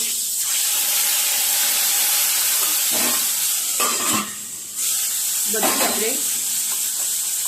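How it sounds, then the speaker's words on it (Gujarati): Onion puree with crushed garlic and ginger fries in oil for Punjabi chole masala, a continuous loud sizzle broken by several scraping stirs and a brief dip in level midway. "હવે જ્યાં સુધી તેલ ના છૂટે ત્યાં સુધી ડુંગળીને આપણે થવા દઈશું ગેસ ઉપર"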